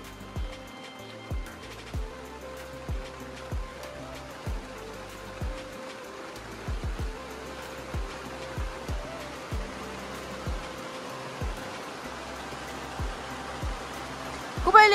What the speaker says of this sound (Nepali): ला हो पानी पर्यो त हौ